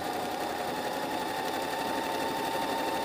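A sewing machine runs continuously while stitching a jacket sleeve lining, a steady, even mechanical whir with a rapid needle rhythm, close and alone throughout.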